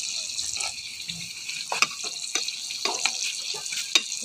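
Banana slices fry in a pan, a steady close sizzle broken by scraping clicks as they are flipped over.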